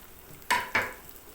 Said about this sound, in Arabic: نقلب بقى فيها لحد ما تتحمر معانا زي ما احنا متعودين اهي